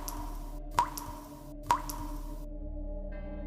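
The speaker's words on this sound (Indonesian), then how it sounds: "Suara tetesan air, pelan tapi terus-menerus." Two slow, separate water drips plop out about a second apart over a quiet low hum at night, soft and fairly close, with no talk.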